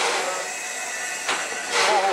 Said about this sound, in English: The engine on platform 2, the engine's got to move from the train to take water.